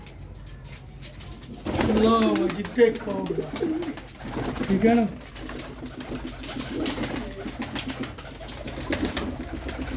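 Pigeons coo softly in short bursts nearby at a pigeon sale while someone talks over them.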